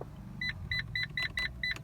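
Fiat dashboard warning buzzer beeping in a steady rhythm, six short electronic tones about a quarter second apart, clear over the low hum of the car interior.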